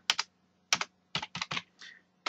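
Keys on a computer keyboard are struck in quick, crisp clusters of clicks with brief pauses between bursts, close and clear, with no voices over them.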